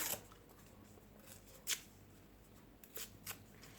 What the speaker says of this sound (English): It's really fun to tear the papers